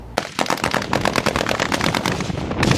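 Automatic gunfire during an Al-Shabaab militant attack on a small Somali town, a fast continuous burst of sharp loud shots rattling for over two seconds, close and dense.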